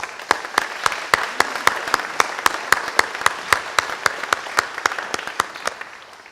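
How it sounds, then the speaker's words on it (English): Rhythmic, unison clapping from an audience at a Peralta Colleges Flex Day gathering, with steady evenly spaced claps repeating before fading out near the end. "I would like to applaud you for your efforts."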